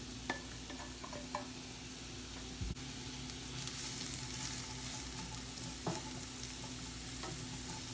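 Diced onion frying in olive oil in a skillet, giving a steady close sizzle with occasional stirring clicks and scrapes, no talking.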